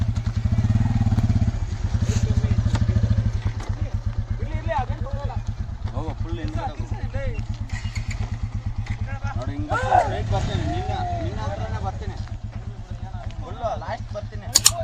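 A motorcycle fitted with a Sepal wheel shield is ridden at a steady pace, its engine droning in a continuous even rumble close by, with someone talking over it through much of the ride.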